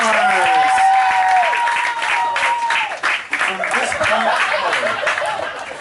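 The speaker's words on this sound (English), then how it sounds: "Let's give it up for your stars!" Audience at a hypnosis show at Pahoa High School in Hawaii breaks into loud, sustained applause, mixed with cheers, whoops and scattered laughter that ripple through the room for several seconds.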